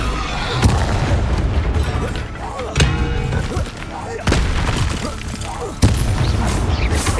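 Blasting-spell explosions in Hogwarts Legacy combat, a series of sharp booming blasts spaced a second or two apart over a busy, dense battle din.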